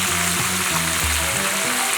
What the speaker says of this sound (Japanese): いい音だね。 しっかり揚げる。